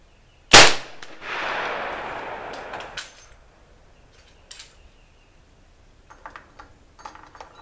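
A single booming rifle shot from a .577/450 firing 480-grain paper-patched bullets cracks loud and close, followed by a long rolling echo and then a few faint clicks and handling noises.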